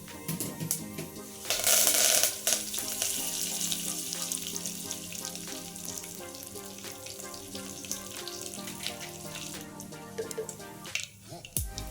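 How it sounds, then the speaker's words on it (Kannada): Oil sizzling in a hot pressure cooker while making pulao, a continuous close crackle with a brief louder hissing burst early on and a few metallic clinks, no speech. "ಕುಕ್ಕರ್ ಬಿಸಿ ಆಗಿದೆ ಇವಾಗ ಎಣ್ಣೆ ಹಾಕಿದ್ದೀನಿ"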